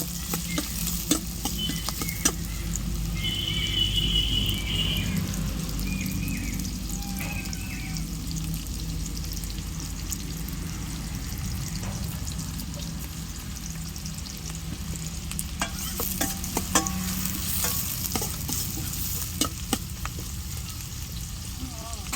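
Onions sautéing in a pan for a squid fry, soft continuous sizzling broken by sharp scraping and stirring knocks from a utensil, with a brief tonal beep early on.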